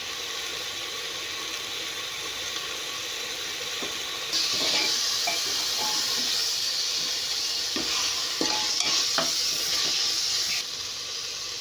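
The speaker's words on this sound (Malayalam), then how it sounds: "ഇനി കുറച്ച് നേരം ഇതിട്ട് നമുക്കൊന്ന് ഇളക്കി വേവിച്ചെടുക്കാം." Prawns being stirred and cooked in a pan for prawn biryani, with a continuous sizzle and hiss that grows louder partway through, broken by scraping stirs and a few soft clinks.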